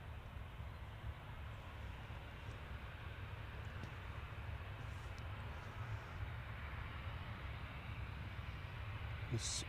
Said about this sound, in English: Okay, Ryanair off to Brussels.